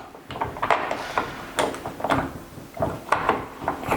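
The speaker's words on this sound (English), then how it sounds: "now that just gently slide the door into the" An internal sliding door is eased along its track during installation, giving a series of soft wooden knocks, scrapes and rolling rumbles at close range.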